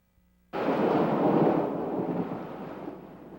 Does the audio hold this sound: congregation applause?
no